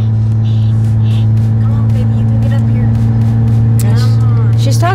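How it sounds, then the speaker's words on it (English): Car with a loud muffler producing a heavy, constant low engine drone at close range, with people talking over it. "if you hear a that's her car. That's the muffler."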